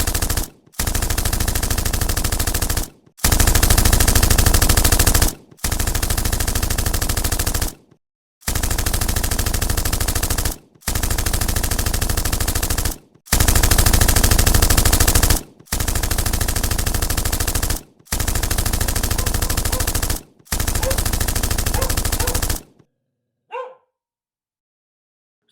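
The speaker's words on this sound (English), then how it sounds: "opened fire upon them, killing them in a massacre-style shooting" Sustained machine gun fire as a sound effect for the St. Valentine's Day Massacre shooting, loud bursts of several seconds each separated by brief silences, ending with one short faint burst.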